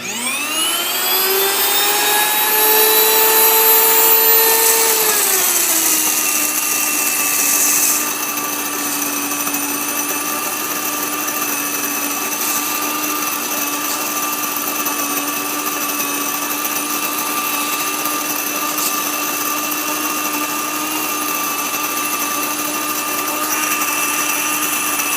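Spelt whole grain milled into flour by an electric grain mill, which whines up loudly over the first seconds and then settles into a steady, high-pitched grinding drone that continues unbroken.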